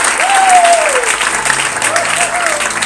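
A church congregation bursts into loud, sustained applause, a dense wash of many clapping hands filling the room, with a raised voice calling out over it.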